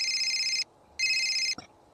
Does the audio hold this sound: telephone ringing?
yes